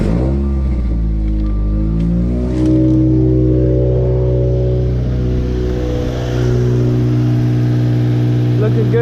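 A Subaru car engine warms up at idle after a misfire repair, a steady low rumble with strong harmonic drone and a slight rise in revs, continuous and close throughout with no talk.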